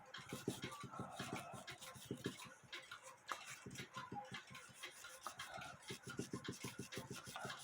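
A composite quarter-hour cuckoo clock is scrubbed by hand, giving a steady, rhythmic rubbing and rasping close by. The strokes come fast and evenly over several seconds at a fairly quiet level, with no talk.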